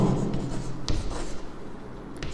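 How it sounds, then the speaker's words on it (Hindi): Pen strokes write out a Class 10 maths solution on surface area and volume, scratching in short bursts over a steady low hum, close and fairly loud, with no talking. "तो मैं लिखता हूँ सिरप फाउंड"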